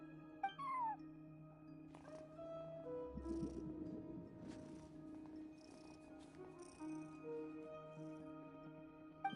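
A cat in a video game at a hotel front desk gives a few short meows over a steady low hum of game ambience, faint and close, with a brief rumbling purr in the middle.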